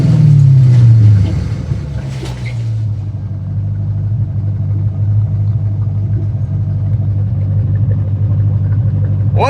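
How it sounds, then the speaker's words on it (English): A Corvette's LS V8 with the mufflers cut off, a deep falling rev at the start settling into a loud, steady rumbling idle, with no speech. "If you rev an LS motor 3 times"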